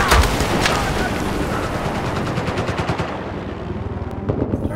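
Sustained automatic machine gun fire in the video game Battlefield 4, loud rapid bursts rattling continuously with a brief tail of scattered shots near the end.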